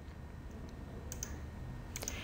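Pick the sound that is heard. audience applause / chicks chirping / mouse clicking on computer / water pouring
mouse clicking on computer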